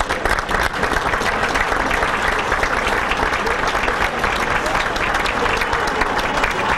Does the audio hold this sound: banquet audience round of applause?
yes